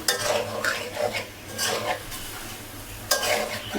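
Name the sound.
stir-frying stinging catfish in curry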